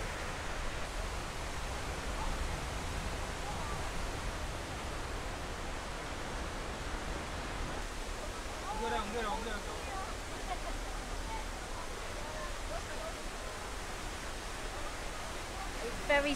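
Jeongbang Waterfall on Jeju Island pours down with a steady, dense roar of falling water that fills the whole stretch without a break, continuous and fairly close.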